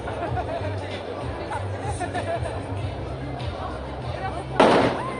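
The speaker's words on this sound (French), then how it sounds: "Explosion hein, pas loin, petit feu d'artifice." A single sharp firecracker bang bursts out nearby near the end, cutting through a steady hubbub of crowd chatter and low rumbling noise at a street protest.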